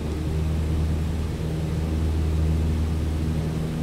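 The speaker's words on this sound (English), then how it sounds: "So I'm going to go ahead and begin the takeoff roll. Park and brake can go off, full throttle can go on." A light aircraft engine runs at full throttle through a takeoff roll in a flight simulator, giving a loud, steady drone with a strong low hum that holds without a break and no talk over it.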